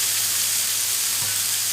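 Diced onions frying with a small spoonful of sugar in a pan, a steady, even sizzle close by with no talking.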